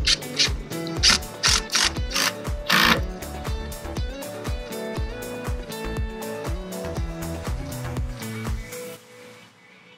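A ratchet wrench cranks down GOBI roof rack bracket bolts in quick repeated clicking strokes, close and loud, with brief pauses between bursts, no voices.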